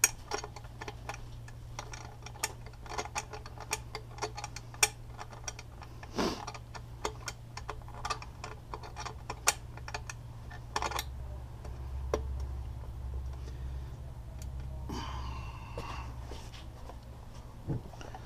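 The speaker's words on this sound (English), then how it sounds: "Usually get one of those ratcheting types, makes it easier." Ratcheting wrench on the rear axle nut of an ecomoped e-bike: a long, steady run of close, crisp clicks in uneven bursts over a low background hum, with no talk.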